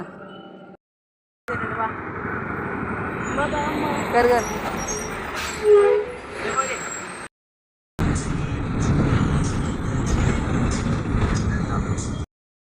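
A bus rumbles at the Edakkara bus stand, its engine noise loud and close in broken stretches separated by brief silent cuts, with faint voices and street sounds around it.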